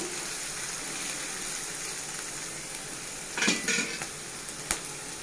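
Okra rice fries in a pan on the stove, a steady soft sizzle running throughout, broken by a few sharp scrapes and clinks of a spoon stirring against the pan near the end.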